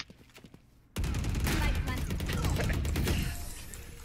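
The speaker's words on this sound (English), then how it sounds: "that was a lot of shooting" Heavy gunfire erupts suddenly in a Roblox shooter game after a quiet moment, a dense, loud barrage of rapid shots continuing for several seconds before tapering slightly, with voices faintly underneath.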